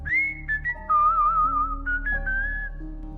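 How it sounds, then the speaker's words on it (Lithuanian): A person whistles a wavering melody back, clear and sustained with sliding pitch changes, heard alone in a quiet room of an old theatre near the dressing rooms. "Staiga kažkas sušvilpė man atgal."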